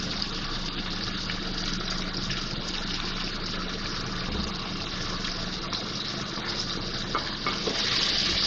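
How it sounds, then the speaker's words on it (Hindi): Tomatoes and spices fry in a pan with a steady, close sizzle and hiss that holds evenly throughout, with no voices heard. "मसाले डाल के 1 से 2 मिनट में इसकी भुनाई करूँगी।"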